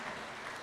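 A short burst of applause for the president at State House, steady and moderately loud, with no voices on top of it.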